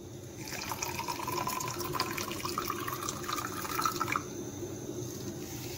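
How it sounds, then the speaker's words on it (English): Warm water pours into a glass cup holding ginger powder, a soft continuous trickle that rises gently in pitch as the cup fills, then stops abruptly. "and add warm water"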